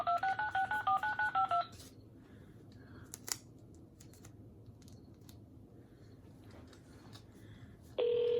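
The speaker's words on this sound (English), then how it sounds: "I'll dial his number." A quick run of keypad dialing tones beeps at the start, then faint background hiss with a few small clicks, and a steady tone begins near the end.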